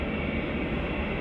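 A British Airways Airbus A320 at Manchester Airport gives off a dense, steady engine rumble, loud and unbroken for a brief moment.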